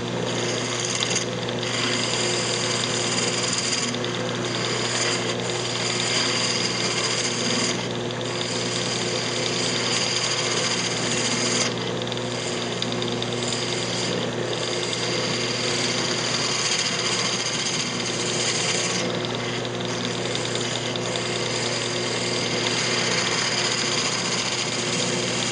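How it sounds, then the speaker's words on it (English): A wood lathe turns reclaimed wood while a fingernail gouge cleans up the piece, producing a loud, steady motor drone with a continuous cutting hiss and no talk. "I'm just going to use the fingernail gouge here to clean this up a little bit"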